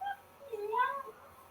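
A dog whines in short, high, wavering cries that sound much like a cat meowing, faint and close in an indoor room, with no other sounds competing.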